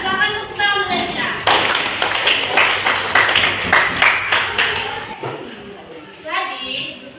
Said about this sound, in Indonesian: Silakan tepuk tangan untuk Destina.